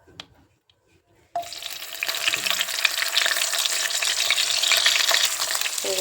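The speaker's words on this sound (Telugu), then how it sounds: "మనం ఇప్పుడు కడిగి పెట్టుకున్న చేపలు నూనెలో వేసుకోవచ్చు" Dried fish dropped into about two spoons of hot oil in a pan for a curry, bursting into a loud, steady crackling sizzle after a quiet start and holding strong to the end.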